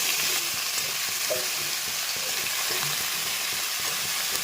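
Garlic and onion fry in a pan with a bright continuous sizzle as gourd is added, accompanied by faint stirring clatter and no speech.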